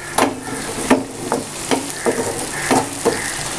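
A spoon stirring green onion and coriander into a sizzling egg dish in a pan, rhythmic scraping strokes about every half second over a steady frying hiss, close and alone.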